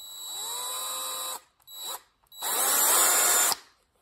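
A power drill retooling Gazzew Outemu Blue Ice mechanical keyboard switch bases whines loudly and close in two long runs split by a brief burst, ending abruptly.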